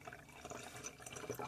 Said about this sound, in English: And then put the hot water in